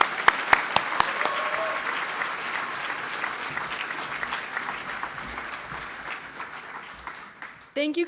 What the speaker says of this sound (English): clap them up for everybody